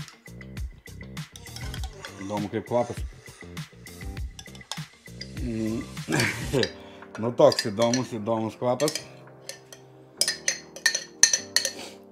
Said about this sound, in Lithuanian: atsidarome ir viską tiesiog dedame tiesiai į puodą